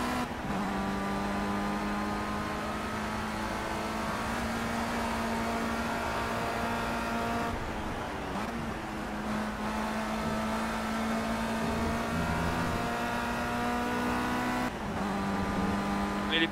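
A race car engine drones at a steady high pitch through the track's curves, dipping briefly as the car shifts or brakes before climbing again, heard from inside or close to the car.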